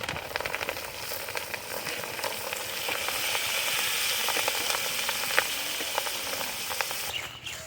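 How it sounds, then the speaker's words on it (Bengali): Vegetables with torn dried red chilies frying crisp in a pan of hot oil, a dense, even crackling sizzle held close and fairly quiet, with no voices. "একদম কড়া করে ভাজছি"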